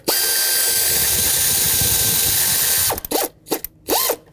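An air ratchet spins bolts down on the rear valve cover of a 2013-2020 Nissan Pathfinder 3.5L V6: a loud, steady pneumatic whine for about three seconds, then several short, sharp bursts.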